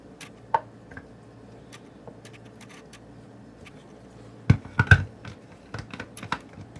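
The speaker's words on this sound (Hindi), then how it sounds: "तो देखिए टमाटर को भी काट लें और उसको भी इसके अंदर डाल दें।" A knife cuts through ripe tomatoes on a board, producing sparse, sharp taps and chops of uneven rhythm, with a quick cluster of louder cuts near the end, close by and without speech.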